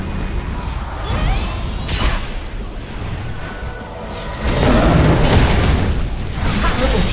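Booming explosions and whooshing bursts from a turret and inhibitor being destroyed in a League of Legends match, a loud dense blast swelling midway and continuing among busy in-game effects.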